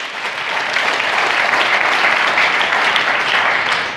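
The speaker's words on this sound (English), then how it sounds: "So a big round of applause for today." Audience applause at a Lenovo Transform keynote in New York City, a dense, loud, even wash of clapping from a large crowd that swells in and holds steady for several seconds.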